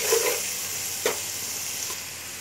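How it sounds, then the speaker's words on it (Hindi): Spices and coriander powder roasting in oil over a low flame for dhaba-style aloo gobhi, giving a steady soft sizzle with a couple of faint stirring scrapes, close and continuous. "ये सारे मसाले डाल के हम अच्छी तरह से भून लेंगे।"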